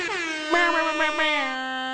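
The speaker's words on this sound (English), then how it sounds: "Air horn, air horn, air horn, air horn. Plenty of air horn to go around." A loud, sustained air horn blast with a steady harmonic tone, holding for about two seconds with slight wavering in the middle.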